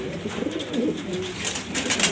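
Grizzle pigeons cooing softly in a loft, low murmuring coos that run on for a couple of seconds under some faint background rustle.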